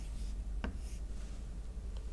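Pen or pencil writing numbers on paper while working a math problem: a few faint, brief scratching strokes, one sharper stroke near the middle, over a low steady room hum, with no talking.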